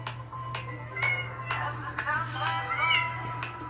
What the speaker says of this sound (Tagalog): mag-iingay na yung aming pusa